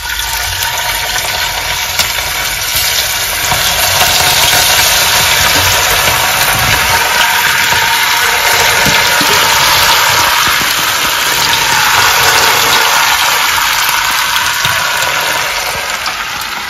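Chicken pakodi pieces deep frying in hot oil give a loud, steady, hissing sizzle with dense crackling that continues unbroken throughout, with no talking.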